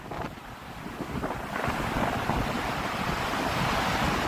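Wind blows hard outdoors beside breaking waves on a Chicago walk, a dense rumbling roar buffeting the microphone that grows steadily louder, with no talking.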